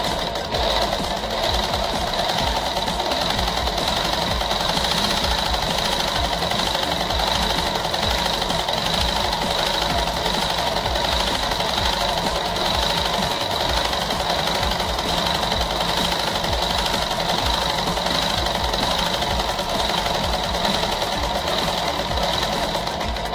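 A sewing machine hums loudly and steadily without a break, double-stitching the waistband of a petticoat.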